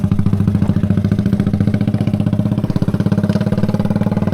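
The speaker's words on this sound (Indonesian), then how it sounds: "mesin kompresor di situ" Compressor engine running by a river with a steady, rapid chugging pulse, close and continuous with no variation in pace.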